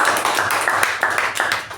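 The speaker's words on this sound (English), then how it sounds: "Big round of applause." Applause from a small meeting audience, a brief run of close, sharp handclaps in an uneven rhythm, fairly loud and tapering off at the end.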